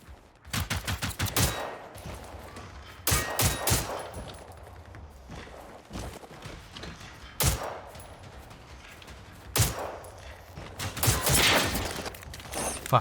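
Enemy robots fire on the player in the Generation Zero shooter game, with repeated close bursts of rapid automatic gunfire and scattered single shots, broken by short lulls of quieter mechanical game sounds.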